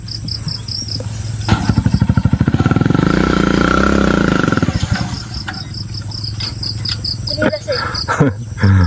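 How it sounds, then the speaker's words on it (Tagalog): A motorcycle rides past on a rural road beside rice paddies, its engine rising loud and close, then fading away, while insects chirp steadily in the background and a person laughs briefly. "oh, motor."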